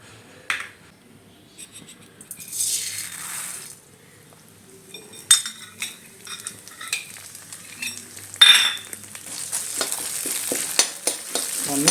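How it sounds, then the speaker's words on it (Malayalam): Urad dal crackling and sizzling in hot sesame oil in a pan, bursts of frying with occasional stirring and utensil clinks, close and intermittent. "ഇനി ഇതിലോട്ട് നമുക്ക് എണ്ണ ചൂടായിട്ട് ഉഴുന്ന് പരിപ്പ് ഇട്ട് കൊടുക്കാം"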